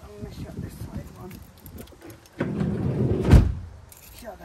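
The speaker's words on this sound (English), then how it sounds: "Shut that side door." A side door on a micro camper slams shut with one loud, close thump, set against gusting wind and some shuffling and handling noise beforehand.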